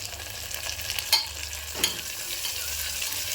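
Chopped tomato stirred into onion and garlic frying in a pan for a drumstick dish, a continuous close sizzle broken by two sharp scraping clinks of the spoon, with no talking.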